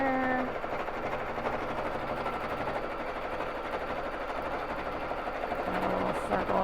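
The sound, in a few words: BabyLock Jazz sewing machine free-motion quilting on frame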